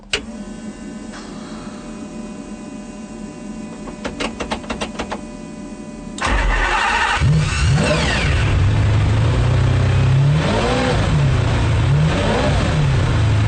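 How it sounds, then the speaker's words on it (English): A race-spec Ferrari with stripped sound deadening: mechanical clicks and whirring of fuel pumps first, then the engine fires loudly around six seconds in and settles into a rough idle with several rising and falling revs, no talk. "Full race-spec master switch. Ignition. Fuel pumps on."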